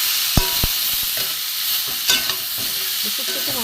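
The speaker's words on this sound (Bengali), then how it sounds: "দিয়ে আমি একটু ভালো করে ভাজবো সবজিটা" Mixed seasonal jukto ful vegetables with beans, potato and stalks fry with ground coriander and cumin, giving a steady close sizzle marked by a few sharp spatula knocks and scrapes against the pan.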